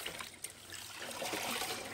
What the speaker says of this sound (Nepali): पानी हालि हेर्नु त कस्तो हुन्छ